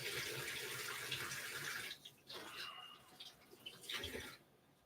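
A tomato rinsed under a running kitchen sink tap: steady close water hiss that breaks up and spatters as the stream hits the fruit, without any talk.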